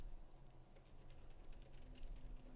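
Keys tapped on a Crush 80 Reboot Pro keyboard during a quick test, a quiet run of light irregular clicks heard close up over low room hum.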